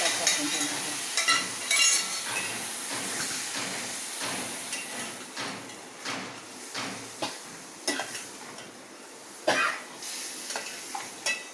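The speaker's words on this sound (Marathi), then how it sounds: "चांगली हलवून घ्यायची आणि 10 मिनटं हिला अशी उकळू द्यायची" Chickpeas and potato are stirred in a pan, a spoon scraping and knocking in repeated short strokes over a soft sizzle, close and fairly quiet, with no talking.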